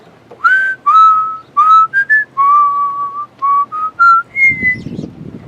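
A person whistles a melody in clear, sustained notes with short gaps between phrases, close and loud, with no talking.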